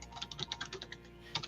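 Rapid, fast typing on a computer keyboard: a quiet, irregular stream of clicky keystrokes heard alone, with no voices.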